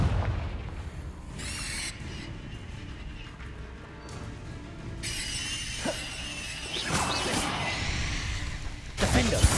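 Spell blasts in Hogwarts Legacy combat, with low booming impacts and bright crackling bursts that flare repeatedly over continuous battle noise, ending in a sharp loud hit.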